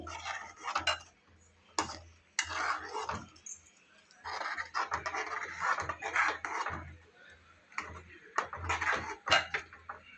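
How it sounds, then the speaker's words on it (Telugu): A spoon scrapes and stirs dry fruits into melted jaggery sweet in a pot, making intermittent rasping scrapes and soft metallic knocks, close by over a low background hum. "డ్రై ఫ్రూట్స్ వేసి ఇట్లా మంచిగా కలుపుకోవాలండి."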